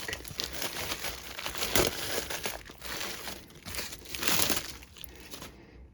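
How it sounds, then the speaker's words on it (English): Plastic wrapping is crinkled and pulled off a head of supermarket broccoli, with continuous close rustling and crackling that swells in bursts throughout, with no talking. "Just get it out of the plastic."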